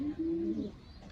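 A young pigeon squab gives a soft, brief cooing call at close range, one low drawn-out note lasting under a second against quiet background noise.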